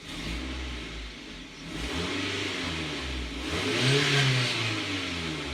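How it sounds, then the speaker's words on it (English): A car engine revving up and easing back twice during fault testing for a P0125 code with a dead bank 1 O2 sensor, close and loud with no talk. "You rev the engine."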